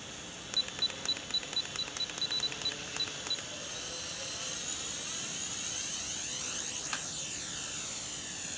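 The JJRC H11D drone sounds its low-voltage alarm outdoors as a string of short, evenly spaced high beeps over the steady whir of its propellers. The beeping stops partway through, leaving only the drone's hum.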